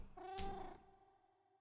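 A cat in the Minecraft video game gives a single short meow that fades into soft purring, close and fairly quiet, with no talking.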